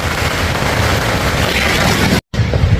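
Dense firecracker barrage at the Phuket vegetarian festival in Thailand, a continuous loud crackling roar of overlapping pops with a brief dropout near the end before the blasts resume.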